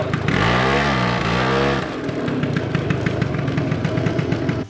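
A Gilera Runner 180cc scooter engine revs hard with a rising and falling whine, then drops to a rapid, pulsing idle that putters on close by.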